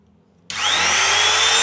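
A 550-watt wood router/trimmer sits silent for half a second, then switches on and runs up to a steady, loud high-pitched whine that holds to the end.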